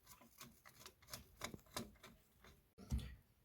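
Plastic clip clicking into place on a CPU cooling fan bracket while building a gaming PC from scrap parts: a quick series of small, close clicks and taps, ending in one sharper snap.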